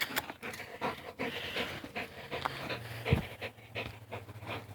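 A dog named Pepper pants in rapid rhythmic breaths while tugging on a toy in a game of tug of war, with scuffling and small thumps of play close by and no talk.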